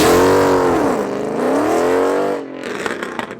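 A Mercedes C63 AMG V8 fitted with an aftermarket exhaust revs loudly and close by, its engine note sweeping up and down twice before cutting off into a crackling, popping decay, with no talking.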